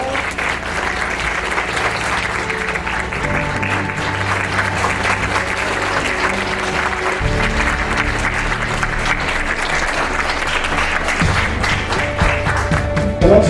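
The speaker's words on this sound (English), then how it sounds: "I think we should give Professor Ndibe a round of applause." A library audience at an author talk gives sustained applause, dense clapping continuing for several seconds, loud and near, with some crowd voices mixed in underneath.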